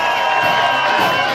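A wedding crowd at a Kazakh Betashar ceremony claps and cheers, giving a dense, loud, continuous wash of applause with scattered shouts throughout.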